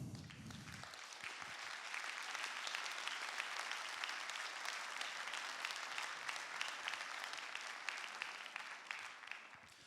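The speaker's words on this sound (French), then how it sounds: "moi je vous propose de vous applaudir et de nous applaudir" A large congress audience applauds steadily and loudly for about ten seconds, a dense continuous wash of clapping from the crowd after a brief low rumble at the start.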